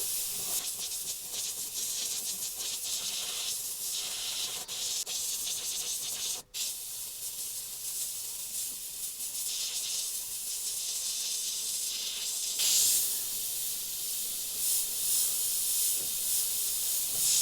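An airbrush spraying trans black paint for fine detailing and cleaning up overspray, a steady close hiss that swells and fades in short passes, with one brief cutoff partway through.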